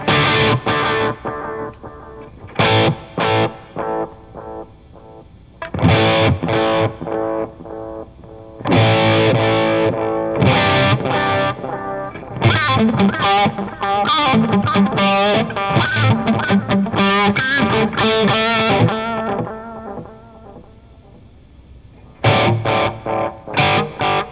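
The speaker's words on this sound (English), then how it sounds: "Here it is with the most amount of delay. This is the max delay." Distorted electric guitar chords through a Seymour Duncan Vapor Trail analog delay pedal set to maximum delay ring out, each trailed by long smeared echoes that keep repeating and overlap the next notes.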